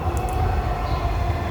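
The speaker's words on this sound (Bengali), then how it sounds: "ইতিমধ্যে মেট্রো রেল আসতেছে, লাইটের বাতি দেখা যাচ্ছে" A Dhaka metro rail train pulls into a station, a loud steady rumbling roar with a faint high tone above it, continuous and close, with no voices.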